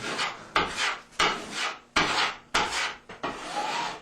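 A drywall trowel scrapes joint compound onto mesh tape in repeated rasping strokes, about seven close, distinct passes with short pauses between them.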